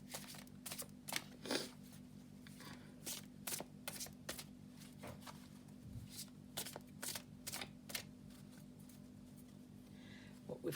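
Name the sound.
handling and laying down oracle cards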